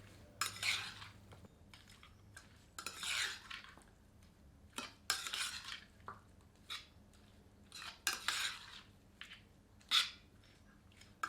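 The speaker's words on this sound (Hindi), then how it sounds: "अब सबको अच्छी तरह से मिला देते हैं।" Intermittent scraping and clinking of a utensil stirring mutton with yogurt and spices in a pressure cooker pot, in short bursts with pauses between, fairly quiet and close.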